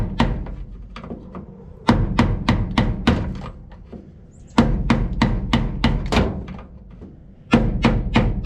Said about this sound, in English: It just needed the hammer.